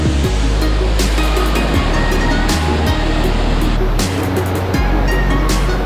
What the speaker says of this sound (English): Super beautiful falls.